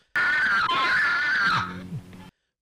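A nurse screams in the horror film Zombie Holocaust: one loud, sustained high-pitched shriek lasting about a second and a half, then a short lower gasping tail, with a faint low rumble underneath.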